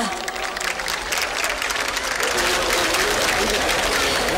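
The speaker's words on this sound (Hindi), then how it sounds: "जोरदार तालियां।" Loud applause at the opening of the International Trade Fair at Pragati Maidan, a thick, sustained roar of many hands clapping that grows slightly fuller and stays strong throughout.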